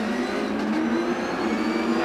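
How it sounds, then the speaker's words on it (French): GT race cars starting a GT World Challenge Asia race at Okayama in Japan, a pack of engines droning and revving together at moderate distance, steady and sustained without voices. "the green flag is shown and we are racing here in Okayama"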